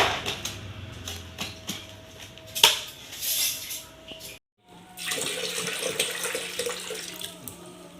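Water runs from a tap into a container, a steady splashing flow with brief clinks, a short pause near the middle and then the stream again, close and fairly loud.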